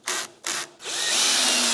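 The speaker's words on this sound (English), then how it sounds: "put those pocket hole screws in" A power drill drives pocket hole screws into wood, close and loud: two short whirring bursts, then one long sustained run to the end, with no talking.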